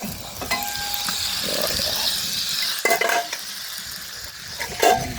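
Beans, eggs, tomatoes and sausages sizzle in a pan over an outdoor wood fire, a steady hissing fry broken by a few clinks and scrapes of a utensil against the pan.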